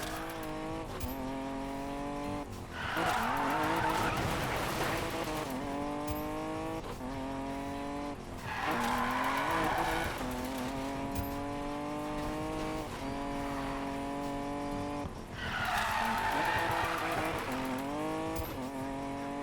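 A car drifts in Need for Speed Payback, its engine droning and revving loudly while the tires squeal in long skids that come in repeated waves.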